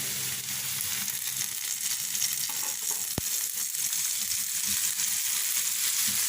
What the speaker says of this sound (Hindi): ये देखिए प्याज हल्की सी सुनहरी हो गई है। अब इसमें 1 टमाटर